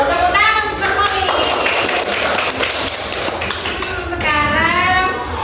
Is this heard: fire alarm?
no